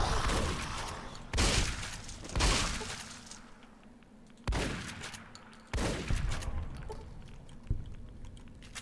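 Gunfire in a horror-themed video game: several sharp, loud bursts of shots and impacts spaced a second or two apart, each decaying into quieter rumbling between them.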